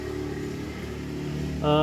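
Yamaha Vega R motorcycle engine, exhaust not fitted, being checked for stalling and hard starting; a steady low idle runs throughout, then revs up louder near the end, close by, with a voice speaking over it.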